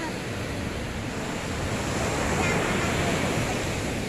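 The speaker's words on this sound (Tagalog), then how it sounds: "Naglalakad-lakad po kami sa tabing dagat." Ocean waves on a seashore heard while walking along the beach, a continuous loud wash of surf with heavy wind rumbling across the microphone throughout.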